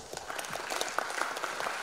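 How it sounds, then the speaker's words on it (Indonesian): A conference audience at DevOpsDays Jakarta 2020 breaks into brief applause for BRI, a short patter of many hands clapping, moderately distant and fairly quiet. "Ya tepuk tangan dulu untuk BRI"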